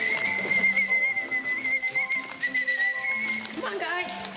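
A long, steady whistle call for trained penguins on the Batman Returns film set rings out clearly and holds almost unbroken, with short bursts of other low sounds and movement underneath.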